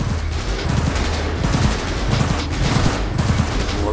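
Rapid automatic gunfire in the video game Cyberpunk 2077, a loud, dense, continuous burst of rattling shots with no gaps across the whole stretch.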